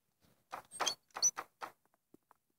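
A door in the Knock Knock video game rattles and thumps in a quick cluster of scraping, knocking bursts, followed by a few faint clicks in an otherwise silent room.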